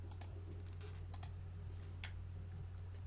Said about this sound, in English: Now you type in that number